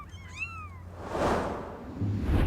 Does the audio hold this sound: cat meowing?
yes